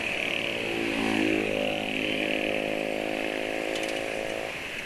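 Suzuki Nex 2 scooter engine revving hard at full throttle climbing a hill, a steady buzzing drone that rises in pitch, loud and close, with no talk.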